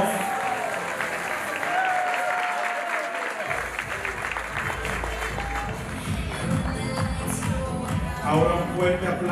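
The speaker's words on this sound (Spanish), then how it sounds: "Jason Toledo, fuerte los aplausos." Guests at a quinceañera party applaud, a sustained crowd of clapping hands running throughout, with an emcee's voice and music-like tones underneath.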